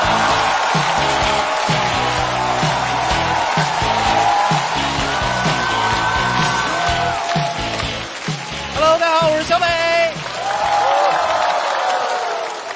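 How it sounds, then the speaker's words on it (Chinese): A studio audience at a Chinese stand-up comedy show applauds to welcome comedian Xiaobei onstage, with dense, loud clapping and crowd noise that carries on for several seconds, while a voice briefly rises over it near the end. "掌声欢迎小北"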